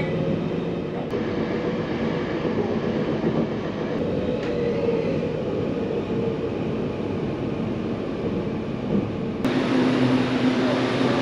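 A train rumbles steadily into Zhuifen station, a historic wooden Japanese-era station on Taiwan's coastal line, heard from on board as a continuous close rolling drone with faint clicks.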